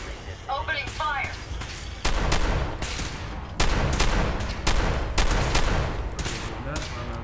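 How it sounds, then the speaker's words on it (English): Rapid bursts of video game gunfire from Fallout 4 Automatron crack in dense volleys, loud and close, with brief speech-like sounds at the start before the shooting takes over. "Opening fire!"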